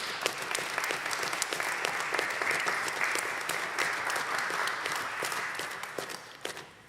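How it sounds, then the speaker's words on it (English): A church congregation at a Sunday service gives warm applause to small group ministry members, sustained even clapping that tapers off at the end. "Let's give them a warm applause."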